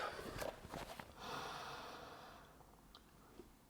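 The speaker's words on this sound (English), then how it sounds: "2 more deep breaths here." A person takes slow, deep breaths while holding a yoga stretch, with a soft sniff and then a long, gentle airy breath, close and quiet.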